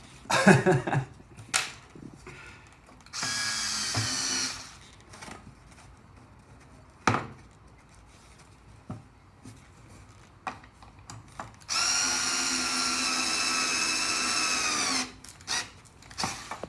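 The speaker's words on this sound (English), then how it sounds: "So this is best to do with the drill" A power drill whirs in two sustained bursts, driving a screw into wood, with clattering handling and scraping noises in between.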